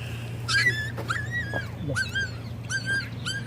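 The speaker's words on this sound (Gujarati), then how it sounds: "નાના નાના ગલુડિયા છે" Small newborn puppies whimper and yip in a series of high, wavering cries, several short calls overlapping close by over a steady low hum.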